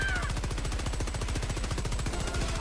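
Rapid automatic gunfire rattles against robots in the shooter game Helldivers 2, a steady, loud stream of evenly spaced shots lasting the whole stretch.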